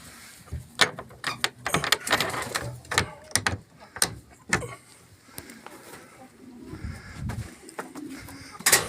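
Pigeons, Poltava silver crossbred with strukach, cooing in a loft, with repeated soft coos broken by sharp clattering bursts from the birds nearby.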